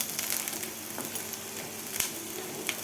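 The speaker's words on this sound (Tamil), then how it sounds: "சின்ன உள்ளி நல்லா வதங்கி வர வரைக்கும் நம்ம வதக்கி எடுத்துக்கலாம்" Shallots sautéing in oil in a pan for garlic chutney, giving a steady, close sizzling hiss with a couple of sharper crackles and a light clink near the end, with no talk.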